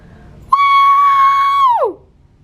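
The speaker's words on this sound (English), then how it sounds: "I know you guys like hate it when I scream like that" A woman lets out a single high-pitched scream of excitement inside the Versace Mansion: loud and close, holding one steady, piercing pitch for about a second and a half before sliding sharply downward and cutting off.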